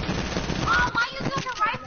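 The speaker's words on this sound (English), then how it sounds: "why are you using a rifle?" Rifle gunfire in a video game, a quick burst of sharp shots with metallic ringing over about two seconds, mixed with background voices.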